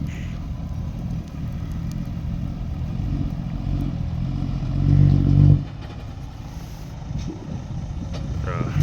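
A small 195 engine on a six-wheel farm vehicle labors and clatters steadily nearby, shifting gears while climbing a steep pond bank, rising and straining before easing off, with rough mechanical rattle throughout.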